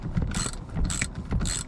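Socket wrench with a deep 13mm socket working a nut on MINI Cooper handbrake cables, a close run of three quick ratcheting clicks in rhythmic bursts.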